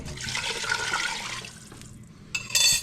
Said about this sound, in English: We're going to add our broth in there.